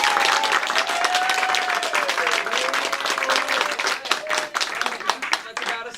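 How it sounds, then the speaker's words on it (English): An audience at an improv comedy show applauds and cheers to score a team, with loud, dense clapping throughout and a voice shouting or talking over it. "So applaud now if you thought Goldie's Gladiators won that round."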